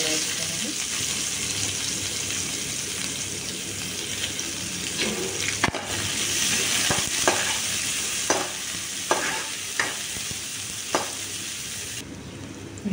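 Broad bean seeds frying in a pan for a chikkudu kaya pulusu curry make a loud, steady hiss, with intermittent stirring scrapes and clacks.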